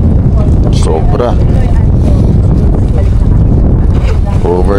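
An overloaded outrigger boat motors across open water while island hopping off Siargao, steady engine drone and heavy wind buffeting the microphone, with passengers' voices talking over it.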